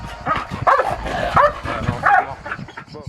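A dog at a dog-training session gives a run of short, high whimpers and yips at close range, several cries in uneven bursts over a low background.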